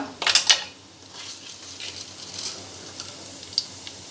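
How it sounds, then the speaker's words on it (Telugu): Whole star anise, cinnamon, cloves and a bay leaf fry in a pan for chicken biryani, with a couple of sharp utensil clinks at the start over a soft, steady sizzle. "ఒక 5 నుంచి 6 లవంగాలు, బిర్యానీ ఆకు వేసి వేపుకోవాలి"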